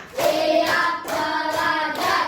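Classroom ice-breaker clapping by a group of pupils, a few counted bursts of claps separated by brief pauses, close and moderately loud, with voices chanting along over them.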